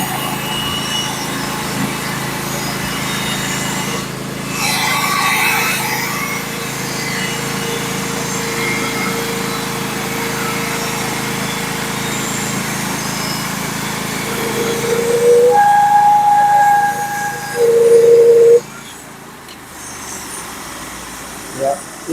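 A band sawmill with a worn, overheating blade cuts a small, difficult sycamore log. A steady engine drone runs throughout, and near the end a sharper whine rises and dips before the cut falls away.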